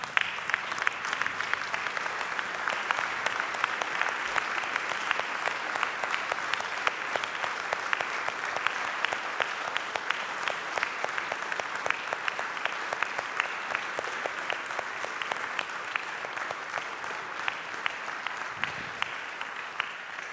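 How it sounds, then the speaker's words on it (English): A church congregation at an Easter Mass gives a standing ovation, a long dense roll of many hands clapping at an even, sustained level throughout, with no break and no speech over it. "If you agree with me, stand and give him a standing ovation."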